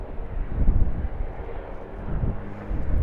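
Low, rumbling jet engine roar from an airliner on runway 25 at Sydney Airport, swelling and fading in a steady drone mixed with wind buffeting on the microphone.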